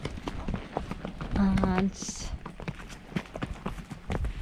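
Local horses of Mongolian origin clip-clopping on a horseback ride near Inle Lake, Myanmar, with a steady rhythm of close hoof beats while a person talks over them.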